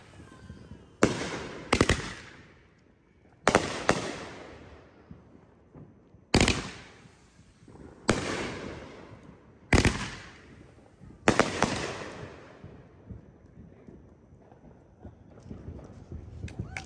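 Fireworks at an evening firework show: about eight loud, sharp bursts, some in quick pairs, each decaying into crackle. Quieter pops and rumble fill the gaps, and a few voices are faint in the background.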